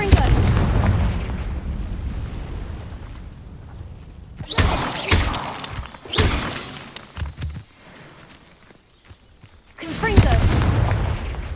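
Confringo spell blasts in Hogwarts Legacy, several loud booming explosive impacts with shattering crackle spaced a few seconds apart over a rumbling background, with a voice casting spells in between.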